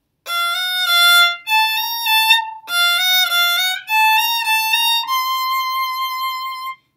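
A solo violin plays a short phrase in clear sustained bowed notes with short breaks between them, close and without accompaniment.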